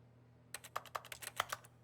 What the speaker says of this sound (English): Now he's using mouse and keyboard.